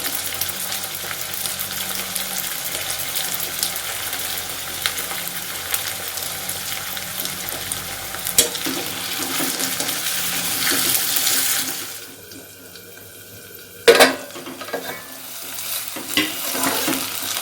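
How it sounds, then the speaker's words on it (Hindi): Potatoes are stir-fried in a pan with a steady close sizzle and stirring scrapes, then a quieter stretch broken by a sharp clatter and further faint frying. "आलू को 2-3 मिनट के लिए भूनेंगे।"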